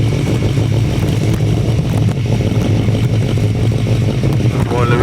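Several 1,000cc grasstrack sidecar outfits sit on the start line at a 2006 Bewdley meeting, their engines roaring and revving together in a loud, steady, continuous blare that never drops away.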